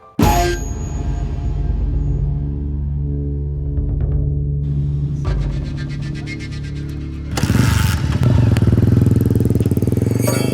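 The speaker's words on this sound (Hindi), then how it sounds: "वाओ, क्या सेक्सी बाइक है यार।" A motorcycle rumbles in with a steady, loud engine drone and tonal whine that swells and grows harsher partway through, running throughout at close range.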